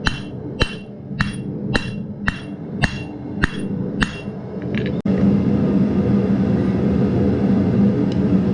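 Hammer blows on hot metal during a forge weld ring out in a steady series of about eight sharp, loud, evenly spaced strikes, then a constant roaring forge rumble takes over.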